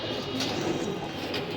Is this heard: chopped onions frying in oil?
no